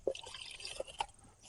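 Rainwater draining out of a fallen cemetery decoration, a short run of close trickles and a few distinct drips, faint and without speech.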